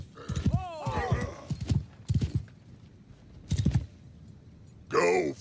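Horses clop and shuffle in a Warhammer fantasy game, with hoofbeats in short bursts under a spoken command, along with snorts and a whinny near the end.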